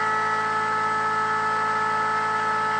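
Arduino-controlled double-stacked DualPole mini motor with new rotors spinning at 3200 RPM, giving a steady, unbroken electric whine with fixed tones and a faint low buzz, unchanging throughout and close.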